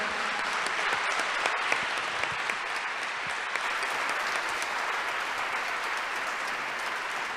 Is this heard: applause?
yes